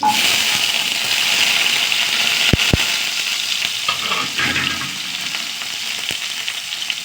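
Mustard seeds, garlic and sliced shallots fry in hot oil with a loud, constant hiss and crackle, broken by a couple of sharp knocks of a utensil on the pan.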